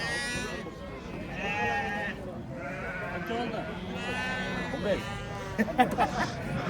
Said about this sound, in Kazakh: Соқлық мал базары.